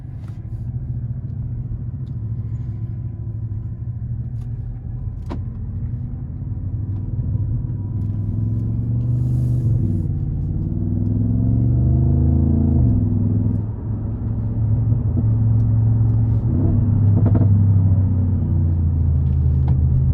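A 2015 Audi S7 with 450 hp gives a deep engine rumble from inside the cabin on a test drive, swelling and falling as it revs through the gears, steady and close, with no talk.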